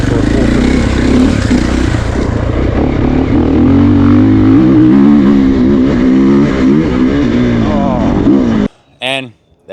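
Triumph TF450E 450cc enduro motorcycle lapping a farm track, its engine revving and shifting loudly and steadily up close for most of the stretch before cutting out near the end.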